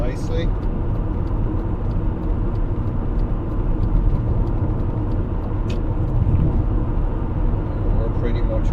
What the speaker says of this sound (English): Push my throttle again. Pulling along here now quite nicely.